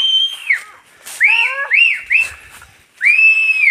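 Whistled signal calls from people in a dense forest, several sliding and warbling phrases separated by short gaps, close and distinct against a quiet background.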